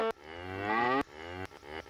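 A cartoonish cow in the Second Life video game moos with a long, rising, sustained bellow. A brief second moo follows, with sharp clicks breaking it up.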